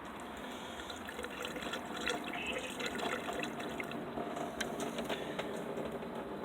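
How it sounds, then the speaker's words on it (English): Coolant poured through a funnel during a Nissan Altima coolant flush, a continuous close trickling and gurgling of liquid with small splashy drips, steady and fairly quiet, with no talk. "This is the coolant, and I'm pouring the coolant."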